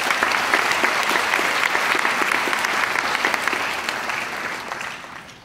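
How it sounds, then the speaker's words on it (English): Audience applause for the mentors at a school assembly, a steady broadband wash of many hands clapping at once that stays loud for several seconds and then gradually thins and tapers off. "Please join me in giving the mentors a round of applause as well."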